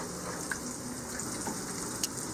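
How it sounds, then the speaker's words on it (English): Crappie fillets frying in hot oil, a steady dense sizzle with occasional small pops and crackles, fairly close and without talk. "Got it frying."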